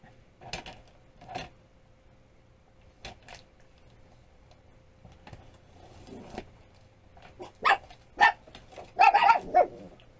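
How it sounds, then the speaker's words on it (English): A few sharp dog barks ring out at a distance, spaced irregularly, then a quicker cluster of louder barks near the end against a quiet background. "And I am so sorry about the dogs barking."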